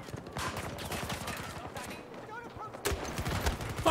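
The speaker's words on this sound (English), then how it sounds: "Let's try a grenade launcher." Grenade launcher firing in a video game, a string of rapid blasts and impacts with a sharp louder burst near the end, mixed over busy game effects.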